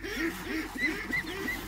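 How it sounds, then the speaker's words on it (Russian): Ducks on a farm quack repeatedly in a steady, overlapping chorus, loud and close, with no talk over them. "Утки орут."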